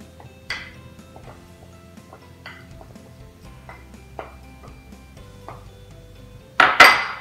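A utensil mixes honey rib sauce ingredients in a bowl, making light, irregular clinks and taps against the side, then a louder clattering scrape at the end.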